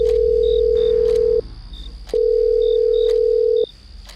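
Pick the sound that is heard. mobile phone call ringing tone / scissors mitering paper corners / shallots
mobile phone call ringing tone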